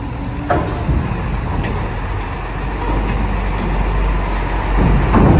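Cars and trucks roll off a ferry at Merak port, engines rumbling and growling in a thick steady mass of vehicle noise that builds toward the end, with occasional clunks over the ramp.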